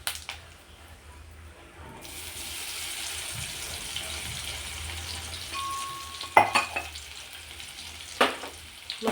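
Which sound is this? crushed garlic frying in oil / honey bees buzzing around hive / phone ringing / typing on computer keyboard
crushed garlic frying in oil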